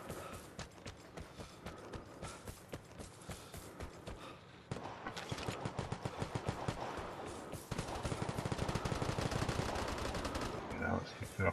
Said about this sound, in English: Still shooting.